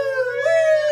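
A single sustained dog howl, rising slightly in pitch midway and holding steady, loud and close for under a second.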